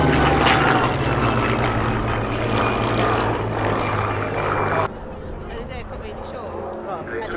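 Hispano Buchon and Hawker Hurricane warbirds flying in formation at the RAF Cosford Airshow, a loud sustained propeller-engine drone that drops abruptly in level partway through, with commentary over it.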